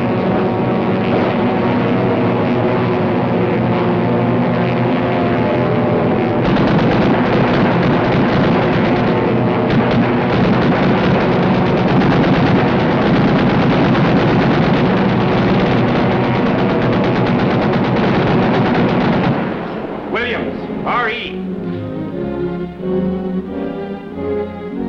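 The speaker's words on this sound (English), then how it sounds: "Get ready to fire when target comes into range." A rear gunner fires an aircraft machine gun at a tow target in flight during a 1943 U.S. Army Air Forces training sequence, a loud continuous roar of engine and gunfire that falls away near the end.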